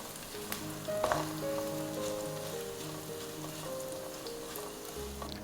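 Red chilli and spices fry in a pan as they are stirred for prawn and cabbage thoran. A soft, steady sizzle runs throughout, with a faint clink near the start and quiet background music underneath.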